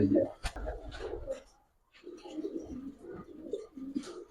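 Giribaz, high-flyer and racer pigeons coo softly and intermittently at close range, partly under a man's speech.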